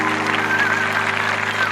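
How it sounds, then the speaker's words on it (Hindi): Applause from an audience at an Independence Day patriotic event, a steady dense clapping wash with crowd noise underneath, loud and continuous throughout. "एक बार जोरदार तालियां लोग"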